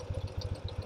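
BMW R1200GS motorcycle engine idling, a low rhythmic throb of evenly spaced pulses, close and fairly quiet, heard alone for under a second.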